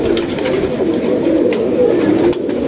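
Pigeons coo close by in soft, repeated throaty calls over a steady low background, with faint voices briefly in the mix.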